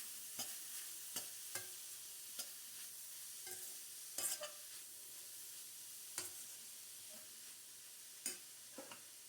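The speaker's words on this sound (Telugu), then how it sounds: "క్యారెట్ అంతా కూడా ఫ్రై అయిపోయిందనమాట." Grated carrot fries quietly in a pan for gajar kheer, a faint low sizzle punctuated by irregular taps and scrapes of a spatula as it is stirred.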